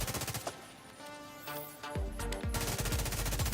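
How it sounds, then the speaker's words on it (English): Rapid automatic gunfire from enemies in The Division 2, with sustained bursts building and overlapping, loud and dense, alongside a pattering of single shots and a few sharp impacts, with no voices. "A lot of them are shooting at me."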